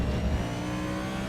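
A race car engine in a NASCAR Next Gen racing game at the Circuit of the Americas builds steadily under smooth throttle, a continuous loud drone with no talk over it.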